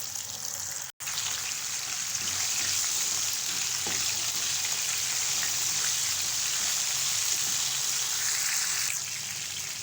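Large half-kilo pieces of chicken breast fry in a pot for haleem, hissing and crackling steadily like rain, broken once by a brief dropout near the start.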